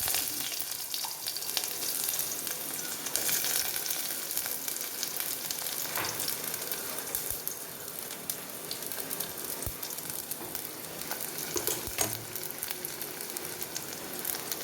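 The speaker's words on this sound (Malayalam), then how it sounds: "ഉലുവയിട്ടു അതുപോലെ രണ്ട് മൂന്ന് ജീരകവും ഇട്ട് കൊടുത്തു ഇനി നമുക്ക് ഉള്ളി അരിഞ്ഞു വെച്ചിരിക്കുന്നത് ഇടാം" Chopped onions fry in oil with fenugreek seeds and cumin for a gooseberry pulissery, a steady close sizzle with occasional stirring clicks and small pops, no speech over it.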